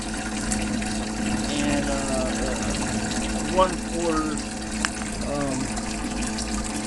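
A small water pump hums and gushes water steadily, with a continuous liquid flow under a man's speech.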